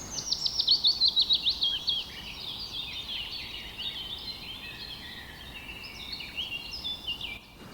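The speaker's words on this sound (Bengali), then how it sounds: "পাখির কিচিরমিচির আওয়াজে মনটা অনেকটা" Birds chirping in a forest, a quick repeated run of bright high calls at first, then softer, scattered tweets over quiet background.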